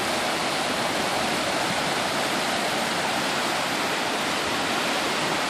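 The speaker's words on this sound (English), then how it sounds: "The dam collapsed, and this is the result of all the water coming down." Floodwater rushes down a creek in Bastrop State Park after a lake's dam collapsed, a steady, loud broadband roar of churning water with no voices.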